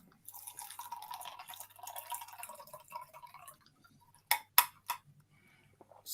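Smirnoff vodka cocktail being poured into a glass: a soft, steady liquid trickle for a few seconds, then several sharp drips and clinks close by, with no talking.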